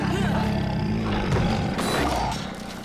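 Tigers roar in the Planet Zoo video game, a loud, rough, sustained growl that fills the short moment, with a rowdy voice talking over part of it.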